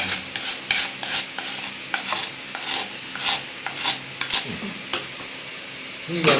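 Mango pickle being stirred into a thick gravy in a pan, a rhythmic series of close scraping, rasping strokes of a spoon against the pan, each stroke followed by a short pause.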